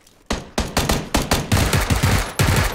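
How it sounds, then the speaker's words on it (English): Rapid automatic gunfire in the PUBG game, with about nine sharp, loud bursts in a fairly steady rhythm and close by. "I'm getting shot at now"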